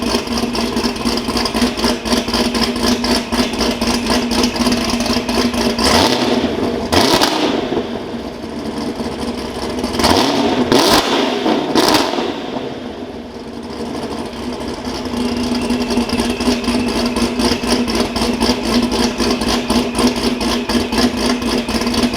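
A Procharged 6th gen Camaro with no hood idles with a steady, droning rumble, then revs in two or three short bursts before settling back to a loud, even idle.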